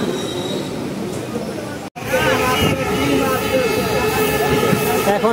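A passenger train, the Bhatiapara Express, runs loud and close with a continuous rumble of wheels on rails. Squealing metallic tones rise after a brief dropout, and a background voice is faintly audible in the noise.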